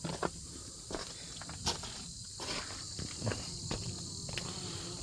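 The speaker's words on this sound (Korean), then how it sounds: "와, 벌들이 너무 많아." Bees and other insects buzz in a constant dense drone across an outdoor Korean grazing pasture in spring, with soft rustles and light taps scattered underneath and no voices.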